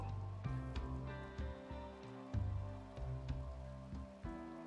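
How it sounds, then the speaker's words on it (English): Foggy rain in the colony-building game Rimworld patters continuously with a soft, even hiss. Small drop-like taps recur over a low background hum, with no talk. "It's foggy rain at the moment."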